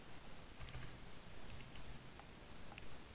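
Steady, soft typing on a computer keyboard, a run of quiet key clicks at an even pace with no voice over it.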